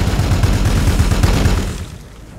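A rapid, rhythmic burst of gunfire from units in the Warhammer 40k Gladius: Relics of War video game, loud and dense with repeated thumping reports, trailing off into a fading rumble at the end.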